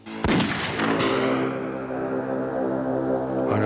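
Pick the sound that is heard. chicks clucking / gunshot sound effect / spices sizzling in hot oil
gunshot sound effect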